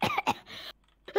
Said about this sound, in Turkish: böyle öksürüyor